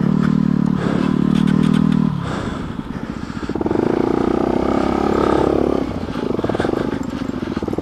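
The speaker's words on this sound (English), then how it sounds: "you can ride a motorcycle straight up over, whoa, loosey-goosey rocks" A motorcycle climbs over loose rocks on a Rocky Mountains trail, the engine droning and surging close by while stones clatter and scrape under the tires.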